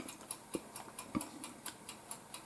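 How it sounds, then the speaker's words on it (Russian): A silver egg-shaped kitchen timer ticks steadily while an apple kefir cake bakes, a quiet, evenly spaced run of crisp clicks with a couple of duller knocks in the background. "таймер тикает. Таймер такое серебряное яйцо, да?"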